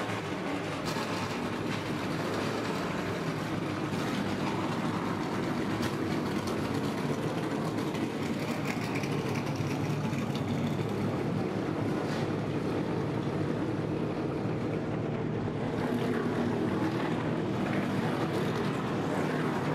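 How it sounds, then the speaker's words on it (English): NASCAR Truck Series engines fire up together on the grid at Dover in 2017, a broad, rumbling roar that holds steady for about twenty seconds, mixed with wind buffeting on the microphone and no talk. "Drivers, start your engines!"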